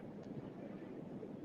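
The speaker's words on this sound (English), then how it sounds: "It's kind of windy in the background on your end." Steady wind buffeting a phone microphone on the far end of a call, a constant rumbling roar with no speech.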